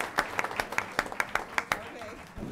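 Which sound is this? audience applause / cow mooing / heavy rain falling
audience applause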